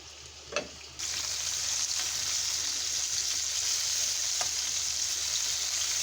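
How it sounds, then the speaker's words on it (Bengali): Catla fish fries in hot oil in a pan, with a brief clink at the start before a loud, steady hiss of sizzling that carries on evenly with a few soft pops. "আজ দেখুন আমার মাছ ভাজা হয়ে গেল"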